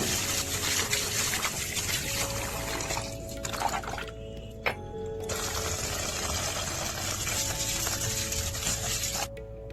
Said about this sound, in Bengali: এবার চালটা একটা স্পিনারের মধ্যে দিয়ে ভালো করে ধুয়ে নেবো